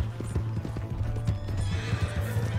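A horse in Red Dead Redemption 2 gallops with steady rhythmic hoofbeats and lets out a whinny, loud and close, under continuous game background sound.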